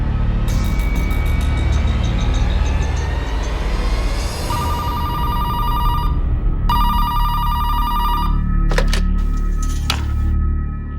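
A telephone rings in repeated electronic trilling bursts over a busy, noisy room background, with a brief pause between rings.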